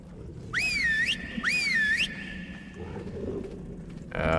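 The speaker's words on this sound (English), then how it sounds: "whistle my dino forward." Two rising, swooping whistle calls from a video game, summoning a dinosaur forward on an island, ring out clearly over a low ambient rumble, followed by a brief bright tone at the end.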